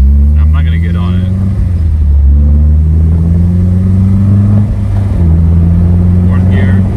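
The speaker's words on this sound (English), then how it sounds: "So we'll go through first gear, second gear." A car engine revs and pulls up through the gears, a loud, steady mid-range drone that climbs in pitch, dips briefly at each shift and rises again, with someone talking over it.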